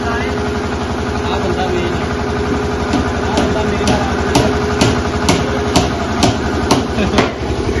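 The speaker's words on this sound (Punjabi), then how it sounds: "ਅੱਜ ਵੀ ਜਨਰੇਟਰ ਚਲਵਾ ਲਿਆ" A generator's steady engine drone thrums throughout, with sharp metallic taps repeating regularly over it and voices talking in the background.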